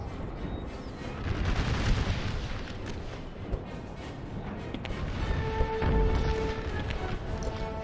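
Rifle volleys and distant cannon fire on a battlefield in the game Total War: American Civil War, rumbling in dense overlapping bursts, moderately loud, with a faint voice briefly in the background.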